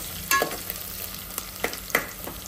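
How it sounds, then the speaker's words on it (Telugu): Onions and other ingredients for mutton curry fry in a pan, with a steady close hiss and a few scraping stirs of a spatula. "ఇవి బాగా వేగనివ్వాలి"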